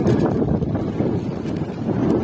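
Strong wind buffets a cyclist riding village farm tracks on a long Turkish bicycle tour, a loud, steady low roar of wind noise with no talk over it.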